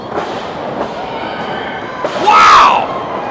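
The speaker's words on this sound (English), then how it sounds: "Running missile dropkick." A wrestler's running missile dropkick lands in a wrestling match ring, a dull thud followed by a swell of crowd noise and a shout over steady arena murmur.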